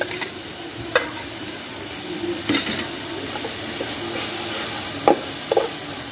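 Garlic and ginger paste frying in a karahi for chicken masala, a steady low sizzle with occasional sharp clinks of a spoon against the pan, no voices.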